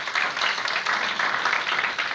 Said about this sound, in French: je vous demande encore d'applaudir